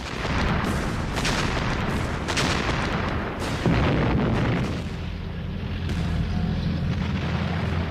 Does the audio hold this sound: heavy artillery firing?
yes